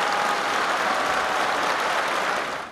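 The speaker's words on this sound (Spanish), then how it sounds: "este fuerte aplauso es para usted" Loud, dense applause from a large crowd greeting Bolivian President Evo Morales at a government event in Potosí, sustained evenly for nearly three seconds before tapering off.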